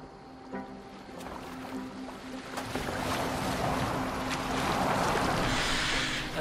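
A boat moves across open water in the video game Assassin's Creed Valhalla, with a steady wash of water and wind building gradually from fairly quiet to louder, no speech over it.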